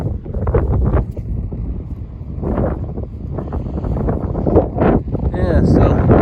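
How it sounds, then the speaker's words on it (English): Strong wind blowing across a small island with patches of grass, buffeting and roaring loudly and continuously against the microphone, with occasional rustling gusts. "Definitely wind. Lots and lots of wind."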